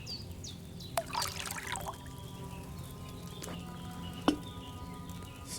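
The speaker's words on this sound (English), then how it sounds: "First, you have to pour the right base into the cauldron." Wine poured from a pitcher into a cauldron in Kingdom Come Deliverance 2, a short soft trickle and splash near the start, with a couple of sharp clinks and quiet ambient hum around it.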